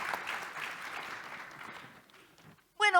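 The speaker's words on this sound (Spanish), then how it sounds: "Un aplauso muy grande" An audience at a health innovation panel in Chile applauds, a soft, fairly distant clapping that fades out after about two seconds before a voice begins to speak.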